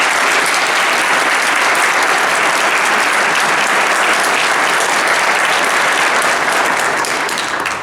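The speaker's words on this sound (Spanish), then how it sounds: "Lo recibimos con un fuerte aplauso." Loud, steady applause from an audience at a tribute event for Padre Chinchachoma, a dense wash of clapping that holds evenly for about eight seconds before easing slightly at the end.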